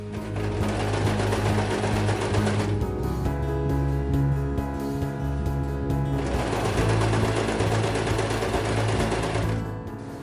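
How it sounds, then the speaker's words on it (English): A sewing machine stitching the shoulder seams of a cosplay costume runs loud and close in a steady whirring hum, stops for a few seconds with lighter handling sounds, then starts up again for another continuous run. "for the shoulder right now I only have to sew those parts."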